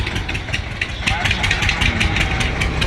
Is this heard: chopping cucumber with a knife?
no